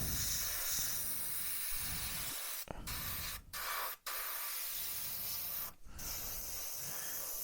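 An airbrush or spray can puts a steady, hissing mist of paint onto a Tamiya M1A2 Abrams scale model, sprayed from the top down. The hiss runs close and continuous, broken by a few short pauses.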